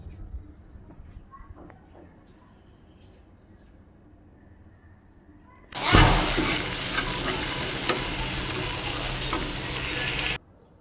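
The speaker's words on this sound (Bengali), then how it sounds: "ওদিকে শুটকির তরকারিটা বসিয়ে দিয়ে এখন মাছটা ভেজে নিচ্ছি" Fish fries in a pan of hot oil in a home kitchen, starting abruptly as a loud, steady, broadband sizzle that holds for about five seconds and then cuts off, after a quieter stretch of low background noise.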